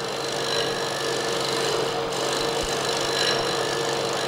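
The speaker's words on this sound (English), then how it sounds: "I'm going to shear scrape from the small diameter up to the large diameter." A tool shear scrapes a wooden mortar bowl spinning on a lathe, a steady close rasping hiss with constant motor hum and no talking.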